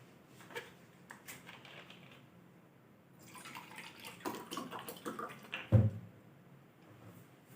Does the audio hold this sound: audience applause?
no